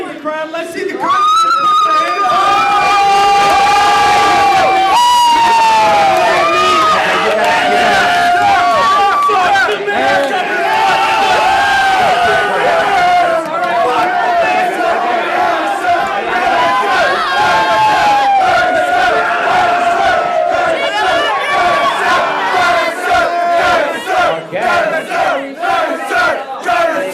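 Large crowd cheering and shouting together, loud and sustained, with drawn-out chanted yells and whoops that swell and fade over a continuous roar of massed voices and babble.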